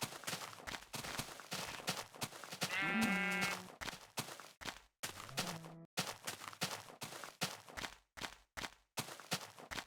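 Sheep bleating in a video game, a couple of distinct wavering bleats standing out over a busy backdrop of steady clicking and tapping sounds.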